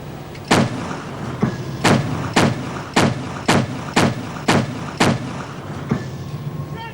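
A naval 40/60 anti-aircraft gun fires aboard a minesweeper in a steady series of heavy, booming shots spaced roughly half a second apart, loud and close, over continuous engine and wind noise.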